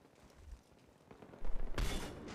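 A rocket explosion in the Battlefield video game, a heavy rumbling blast followed by a sharp loud crack and crackling gunfire-like bursts, heard alone without talk.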